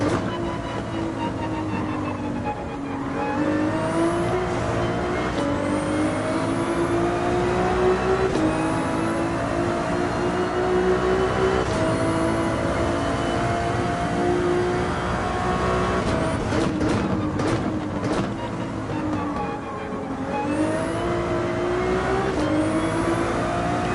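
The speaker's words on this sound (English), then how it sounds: "Back to the Ferrari and everything feels hunky-dory." Ferrari race car in an F1 video game, its engine droning loud and steady for the whole stretch, pitch climbing through the gears and dropping on shifts.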